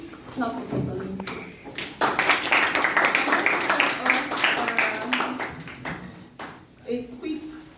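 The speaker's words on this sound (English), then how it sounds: "Please, can we clap for Dr. Lindsay?" An audience claps for Dr. Lindsay at a university speaking event, a dense patter of hand claps building and holding for several seconds, with a voice speaking over it at the start and the end.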